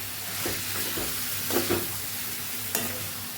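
Sautéed potatoes stirred with pepper powder for a dry potato fasting dish, a continuous pan sizzle broken by several close scraping strokes of the spoon, with no talking.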